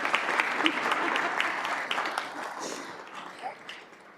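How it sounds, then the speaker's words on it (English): Applause for educators honored at a school district governing board meeting, dense clapping that gradually thins and fades toward the end. "I got cut off from all the happy applause"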